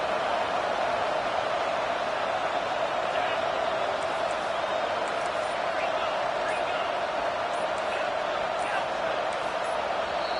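Loud, sustained roar of a packed stadium crowd at a college football game, a steady dense wall of noise with no breaks, a commentator talking over it.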